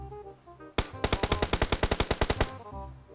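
Automatic gunfire in PUBG Mobile, one sharp shot followed by a rapid even burst of about fifteen loud rounds, crisp and close, with no talk over it.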